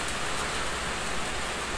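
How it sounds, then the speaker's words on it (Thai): Steady rain falls in a dense, even hiss of broadband noise with no distinct drops standing out, moderately soft and continuous, with no voices. "มาพร้อมกับสายฝน"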